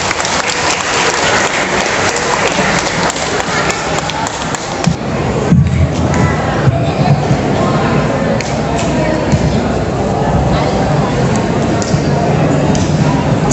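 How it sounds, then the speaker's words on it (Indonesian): Audience applause at a live monologue performance event in Cianjur, a loud, sustained patter of many hands clapping that keeps going throughout, with some crowd noise and a brief shift partway through. "Beri tepuk tangan yang meriah."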